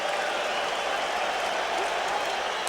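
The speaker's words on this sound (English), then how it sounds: "Crowd making the kind of noise it normally makes for Dwight Gooden." A packed baseball crowd at the 1986 World Series Game 7 roars and claps steadily, urging a strikeout, a dense continuous cheer filling the whole stretch.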